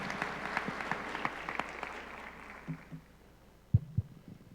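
Applause from an audience at a university education panel in Mexico, thanking the moderator, comes as faint scattered clapping that fades out over a few seconds, followed by a couple of soft thumps.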